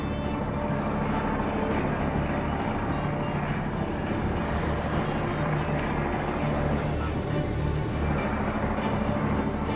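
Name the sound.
truck overtaking on outback road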